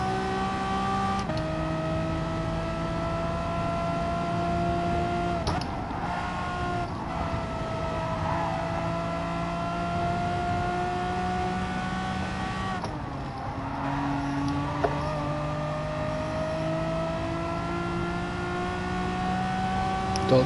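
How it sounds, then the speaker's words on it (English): A car engine, a Scottie GTS, drones steadily with harmonic tones stepping up in pitch through gear changes, loud and close throughout with no talking. "I meant to rev the nuts out of this as well."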